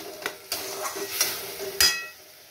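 Paneer curry being stirred in a pan: a few light metallic scrapes and taps of a spoon against the pan, with a faint sizzle underneath, close and fairly quiet.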